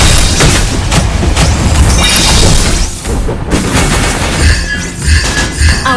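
A turret being destroyed in the Mobile Legends mobile battle game, a loud booming, crashing blast with shattering debris amid dense layered in-game combat effects.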